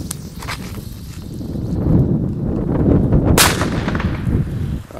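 A large Chinese firecracker from a Weco Bombette assortment goes off outdoors with a loud, sharp bang amid a dense, rumbling crackle, then fades into outdoor background noise.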